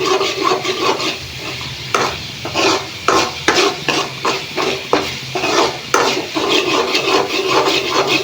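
Onions frying in a pan for a meal maker (soya chunk) curry, with continuous sizzling and repeated scraping stirs of a utensil against the pan, close and steady with no talk.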